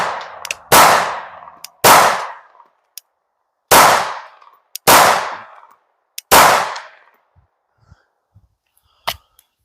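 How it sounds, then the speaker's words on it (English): A Glock 19 9mm pistol fitted with a Leo Precision Oden slide fires five loud, sharp shots spaced roughly a second apart, each ringing out briefly, followed by a few faint metallic clicks. "What we'll do is we'll just finish up that last mag we shot."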